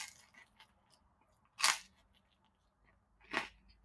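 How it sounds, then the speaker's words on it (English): Two sharp, loud crunches of biting into a thick-crust bacon cheeseburger pizza, spaced well apart with near silence between them. "That back crunch bite, which I've always said is my favorite bite"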